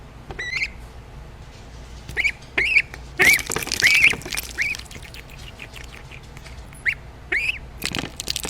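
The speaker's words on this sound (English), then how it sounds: "A duck tastes ice water for the first time in its life." Duck quacking and squawking in short repeated bursts close by, several calls spread across the span with brief splashy noises between them.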